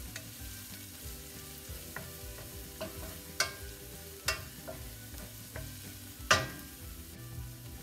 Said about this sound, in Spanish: Vamos a revolver para que sea así trone parejito.